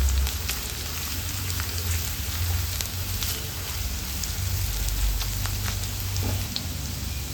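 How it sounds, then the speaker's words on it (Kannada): Ginger and garlic pieces fry slowly on low heat for egg chilli, making a steady soft crackling sizzle like light rain that stays even throughout, with no one speaking. "ಶುಂಠಿ ಬೆಳ್ಳುಳ್ಳಿ ಚೆನ್ನಾಗಿ ಫ್ರೈ ಆಗಿದೆ."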